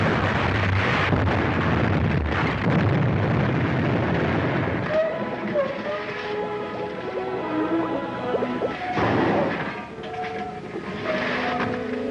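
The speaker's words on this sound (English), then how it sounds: "That depth bomb wiped them out." An underwater depth bomb explosion from a 1942 naval film serial, a loud low rumbling blast with a long churning roar that dies away, followed by faint pinging tones and another surge of rumble.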